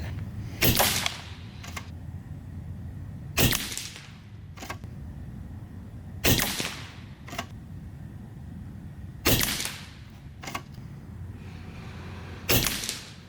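Skout EVO .22 caliber air rifle fired at a bullseye target: five sharp, fairly quiet shots spaced about three seconds apart, each followed shortly by a fainter tap, with a low hush between shots.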